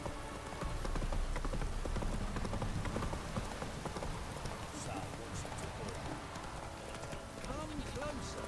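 A horse gallops in The Witcher 3, a steady rhythmic clip-clop of hooves running continuously throughout while a voice talks over it.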